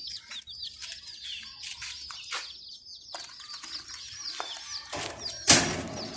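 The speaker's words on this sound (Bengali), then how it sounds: "এটা কিন্তু স্বর্ণালী মুরগি এটার বয়স মাত্র দুই দিন" Two-day-old Sonali chicken chicks peep close by in a rapid, overlapping run of high chirps, with a louder burst of rustling and calls near the end.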